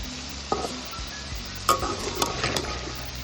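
A beans stir-fry cooks on the stove with a quiet, steady sizzle, broken by a few sharp spatula scrapes and knocks against the pan, close and fairly soft.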